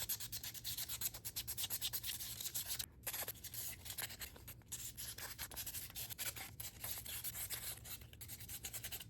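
A 3D resin print is sanded by hand, close up, with a steady back-and-forth gritty rubbing in quick strokes and a few brief pauses, no voices.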